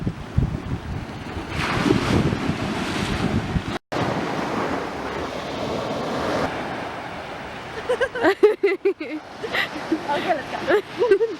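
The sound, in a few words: ocean waves on the shore near Barcelona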